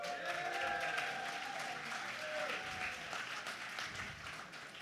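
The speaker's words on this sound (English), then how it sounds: "let's give him a round of applause" Applause from a tech meetup crowd for their bartender, many hands clapping steadily at moderate volume and slowly tapering toward the end.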